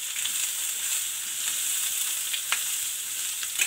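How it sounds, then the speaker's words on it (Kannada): Small diced beetroot pieces frying in hot oil in a pan, a steady close sizzle with faint stirring scrapes and occasional crackles, no voices. "ಈಗ ಇದನ್ನ ಚೆನ್ನಾಗಿ ಫ್ರೈ ಮಾಡ್ಕೊಳ್ಳೋಣ ಆಯಿಲ್ಲಿ"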